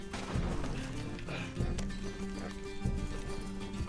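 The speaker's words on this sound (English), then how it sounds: "Damn it, fucking dumbass horse." Horse hooves clip-clopping in the Red Dead Redemption 2 video game, with irregular thuds and a brief whinny-like cry amid game ambience.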